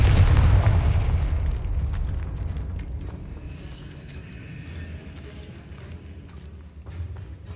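A Confringo fire spell cast in Hogwarts Legacy goes off as a loud, deep explosive boom. It fades over several seconds into a low rumbling tail with faint crackles.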